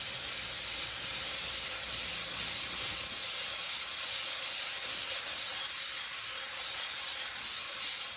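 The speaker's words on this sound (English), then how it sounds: "go over it with the steamer on like a medium setting" Steady hiss of a single-jet steamer on a medium setting working over a carbon fiber wheel barrel on a Shelby GT350R or GT500, continuous and close, with no one talking.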